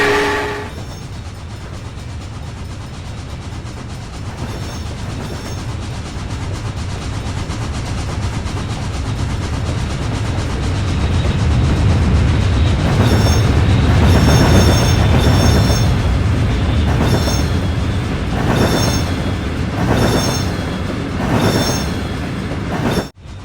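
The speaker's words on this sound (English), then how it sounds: "What we have coming is the Union Pacific Big Boy short locomotive cargo train." A Union Pacific Big Boy steam locomotive hauling a short cargo train rolls past a railroad crossing near a train yard in the Trainz video game, its loud rumbling build and clattering wheels peaking midway, with horn-like tones rising above.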